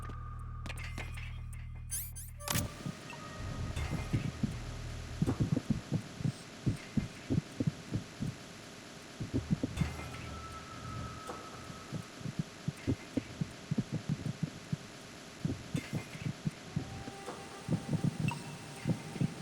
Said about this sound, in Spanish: Este latido es diferente.